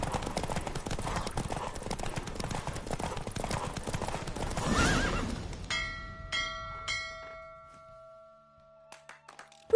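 Horse hooves clatter in a fast galloping rhythm in The Witcher 3 video game, loud and continuous, then slow and fade, followed by a few bright chiming tones.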